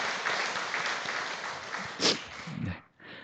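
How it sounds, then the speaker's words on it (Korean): A church congregation at a Sunday morning service claps in thanks, a steady round of moderate applause that fades out near the end. "우리 하나님께 한번 감사의 박수를 우리 올려드리죠"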